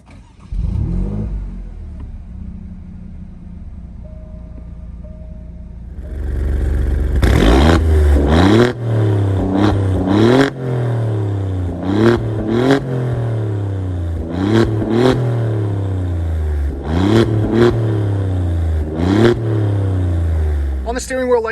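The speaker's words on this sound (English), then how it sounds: "All you have to do to fire this thing up is put your foot on the brake and hit the start stop button on the steering wheel" A 2022 Alfa Romeo Giulia Quadrifoglio starts up with a low churning idle, then its engine revs repeatedly in loud, evenly spaced bursts that rise and fall, heard close and alone without talk.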